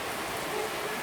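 Rain pours onto a garden in Gambia at the start of the rainy season, a dense, steady close-up patter and hiss with no break and no voices.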